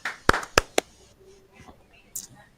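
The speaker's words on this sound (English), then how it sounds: "So 2 claps for Cade Anderson for the job he's done this season" A few quick, sharp hand claps sound close together up front, then fade into a quiet room with faint murmuring.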